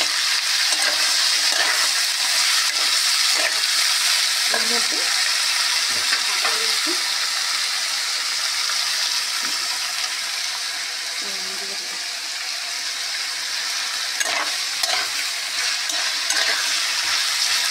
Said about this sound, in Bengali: এদিকে কড়াইতে কিন্তু তেল গরম হয়ে গেছে। এবার সবজিগুলি ঢালার পালা। আমি সব সবজিগুলো একসাথে ঢেলে দিচ্ছি।